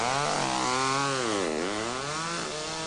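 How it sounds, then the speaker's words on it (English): A chainsaw engine drones loudly and continuously, its pitch dipping and rising as the throttle shifts, with no voices present. "I prefer this. A chainsaw."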